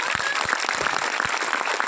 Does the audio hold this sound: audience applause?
yes